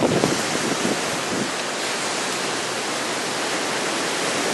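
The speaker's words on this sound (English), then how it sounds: "it seems like the waves are getting bigger and bigger" Ocean waves crash against rocks along the Bondi coastal walk in Sydney, a loud, continuous roar of surf mixed with strong wind buffeting the microphone, with one heavier break at the start.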